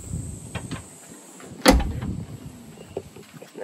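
A Jeep JK tailgate swings on upgraded hinges and shuts with one sharp solid thud midway, surrounded by quiet faint clicks and light handling noise nearby.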